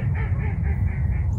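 Geese honking close by in a steady run of repeated nasal calls over a constant low outdoor rumble, loud and without talk.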